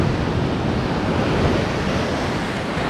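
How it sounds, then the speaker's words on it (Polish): Ocean waves breaking on a beach at Nusa Penida in heavy surf: a continuous loud wash of surf with wind buffeting the microphone, no voices. "tylko są za duże fale i nie możemy dzisiaj popływać"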